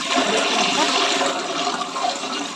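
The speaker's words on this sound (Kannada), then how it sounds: "ಈ ರೀತಿ ನೀವು ವಾಶ್ ಮಾಡ್ಕೊಬೇಕಾಗುತ್ತೆ ನೀರಲ್ಲಿ" Flattened rice (poha) is rinsed in water for a lemon rice dish, giving a continuous close sloshing and splashing of water throughout, with no talking.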